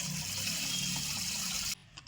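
Rice being rinsed in a pot of water at home, a steady close rushing and swishing of water for nearly two seconds before it cuts off abruptly, leaving a quiet tail with a faint clink.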